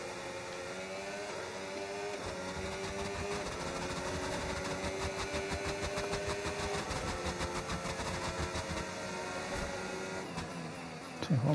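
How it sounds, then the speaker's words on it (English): A race car engine in a video game holds a steady, buzzy drone with a rattling pulse, fairly quiet and constant throughout, with a brief louder burst at the very end. "my engine doesn't sound too good"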